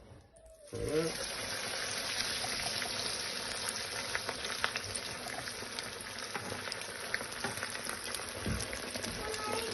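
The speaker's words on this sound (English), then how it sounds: "Now they go into the fryer." Arancini rice balls drop into a deep fryer, and the oil breaks into a loud, steady bubbling sizzle that holds all the way through, with faint crackles on top.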